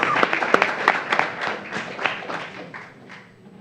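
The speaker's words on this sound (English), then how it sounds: "A round of applause for them." An audience at a school board meeting applauds, with scattered claps, taps and thumps that start fairly strong and thin out over a few seconds as the clapping winds down.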